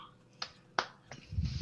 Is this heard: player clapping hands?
yes